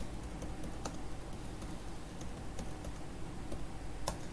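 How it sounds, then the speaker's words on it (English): Keys tapped on a computer keyboard while typing JavaScript code, a faint, steady run of soft clicks over low background noise. "you have to type var, and you can type any name you want"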